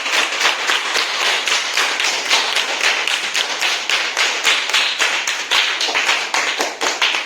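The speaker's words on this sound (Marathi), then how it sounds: "सरांचा टाळ्या वाजवून आपण अभिनंदन करूया" An audience at a village primary school event in Konkan claps for a teacher, a steady run of sharp, close, evenly spaced claps that forms a lively rhythmic burst of applause with no talking.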